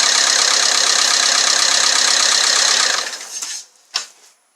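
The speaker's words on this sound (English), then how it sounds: "There's a rattle noise, and it'll subside once the pressure builds up" A Chevy Malibu engine just after startup with a P0335 fault, its rattle loud, dense and continuous for about three seconds before dying away, followed by a couple of brief mechanical clicks.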